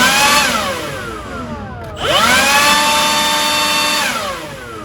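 Makita 18 volt cordless XBU03 leaf blower running alone up close, a steady high electric whine with a rising spool-up after a brief dip midway, then a slight taper near the end.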